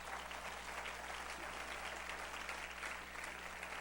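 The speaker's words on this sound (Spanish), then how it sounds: "¿Cuántos pueden darle un fuerte aplauso al Señor por ello?" A church congregation gives a sustained, even round of applause at a Christmas sermon, steady and fairly distant throughout with no talking over it.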